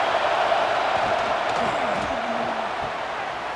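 Stadium crowd in the College Football 26 video game roars on third down, a dense, steady wall of noise that holds at high level throughout, with faint tonal swells rising inside it.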